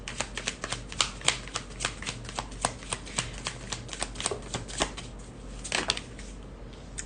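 Tarot cards being shuffled by hand, a rapid run of crisp riffling slaps and flicks close to the ear, irregular bursts that thin out toward the end.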